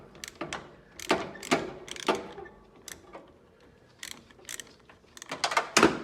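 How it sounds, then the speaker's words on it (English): Close, sharp metallic clicks and ratcheting taps as a wrench loosens the negative battery terminal on a Cub Cadet XT1 riding mower, irregular bursts with short quiet gaps. "We're going to disconnect the negative terminal on the battery."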